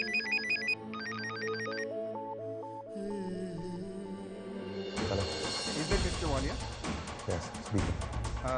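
A telephone rings for an incoming call in a Hindi TV drama, a repeating electronic ringtone pattern heard clearly at first, then buried under loud dramatic music and voices.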